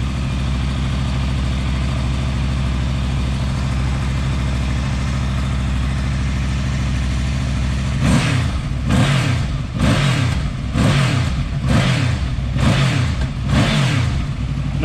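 A Honda VFR800 VTEC motorcycle engine, modified with a PAIR valve delete, snorkel removal and flapper mod, idles steadily, then gets about seven quick, sharp throttle blips in a row, loud and close, with no talking.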